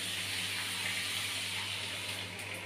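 Water poured into a pot of lightly fried rice for jeera rice makes a loud, steady rushing hiss that fades slightly near the end, with no voices.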